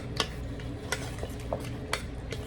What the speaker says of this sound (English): Now, I'm going to stir real good. Get that flavor in my tomatoes